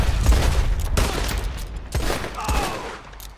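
Repeated gunshots in the Western open-world game Red Dead Redemption 2 crack out in a busy firefight, several loud reports and echoing booms spread across a few seconds.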